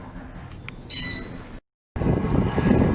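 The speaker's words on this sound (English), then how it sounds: "Waiting for the train." A train on a rail line, with a steady rumble, a brief higher squeal near the start, a short drop to silence, then a louder, closer rolling roar.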